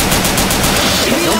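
Dense, continuous automatic gunfire roars in Left 4 Dead 2, a loud, unbroken rattle of rapid shots filling the whole moment.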